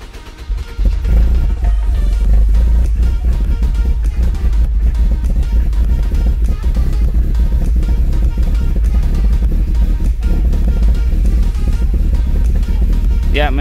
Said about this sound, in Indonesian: Sekarang kita starter ya mobilnya.